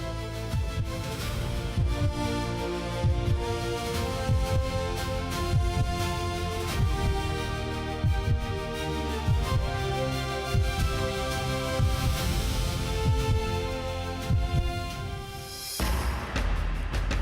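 Heartbeat sound effect at a stadium opening ceremony, a slow, regular thumping pulse that repeats throughout beneath a sustained layered musical drone, cut short near the end.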